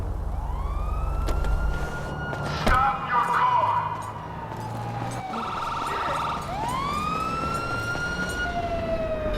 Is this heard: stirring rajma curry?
no